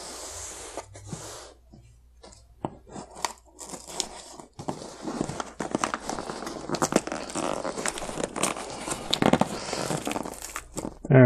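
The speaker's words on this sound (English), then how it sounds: "So let's cut this one open." Cardboard shipping box from Japan being cut open, with a run of sharp crinkling, tearing and snipping noises that start sparse and grow busier and louder, close up, with no talking.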